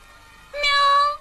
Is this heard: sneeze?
no